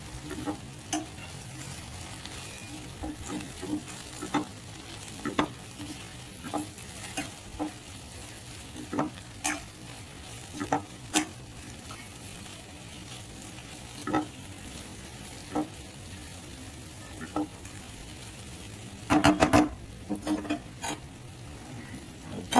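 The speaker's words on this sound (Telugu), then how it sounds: "తర్వాత కారం వేసి బాగా తిప్పుకోవాలి ముక్కకు పట్టేలాగా" Okra fry with chili powder sizzles steadily in a pan while a utensil is stirred through it, producing spaced-out scrapes and clacks that come in a quick cluster near the end, with no voices.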